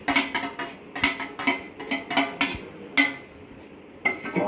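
Raw mango pulp being put into a kadhai, with a utensil giving a rapid series of bright metallic clinks and scrapes against the pan, close up and with no talking.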